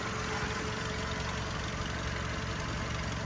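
A Skoda Octavia Tour car engine idles steadily and evenly nearby, a constant low rumble with a faint rhythmic ticking and no voices.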